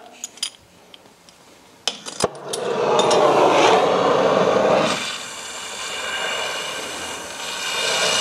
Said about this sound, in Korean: 이렇게 두고 용접 시작해 보겠습니다.